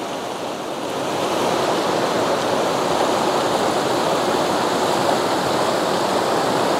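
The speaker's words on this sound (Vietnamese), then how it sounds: "Con suối này mà khi mà trời mưa thì nước nó dâng lên rất là cao." A forest stream beside a creekside cooking spot rushes steadily, a close, dense and even wash of flowing water that swells slightly after the first second and holds without pause, with no voices.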